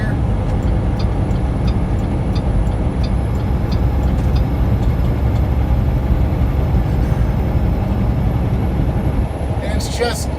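Steady road and engine hum from a car in motion on a drive through Virginia's mountains, a loud, unbroken rumble that holds level throughout with only a faint high whine above it.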